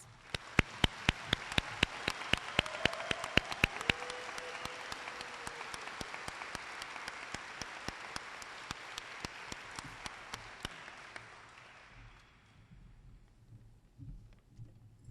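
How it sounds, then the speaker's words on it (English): A crowd of family and friends applauds at a 2022 nursing pinning ceremony honoring graduating students, with dense sustained clapping punctuated by sharp individual claps, holding steady for about ten seconds before fading out. "Let's give them a round of applause."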